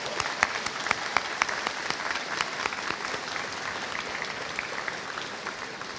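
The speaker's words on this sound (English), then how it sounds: "Let's give them a round of applause." A crowd at a Kettering University press conference claps for the incoming Michigan Scholars class, a steady run of sharp, overlapping applause that holds for the whole clip and fades a little at the end.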